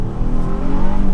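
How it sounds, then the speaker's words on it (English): A 2018 Honda Ridgeline RTL-E pickup truck accelerates, its engine giving a steady, close, rising drone that lasts about a second. "Do a little acceleration here."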